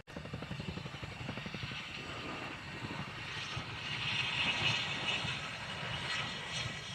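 A Chinook helicopter at an airshow flying display drones from a distance, a steady engine and rotor roar that swells slightly midway, with no talk over it.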